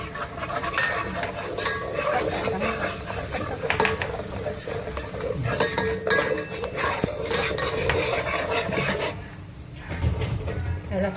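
Homemade masala, coriander-cumin powder and turmeric fry in oil for Kolhapuri tambda rassa, with a loud continuous sizzle and frequent metallic stirring and scraping that ease off briefly near the end.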